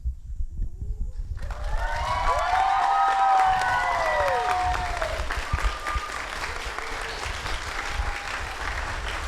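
Wedding guests at a ceremony burst into loud, sustained applause and cheering for the newly declared husband and wife, with whoops and shouts rising over dense clapping that continues to the end.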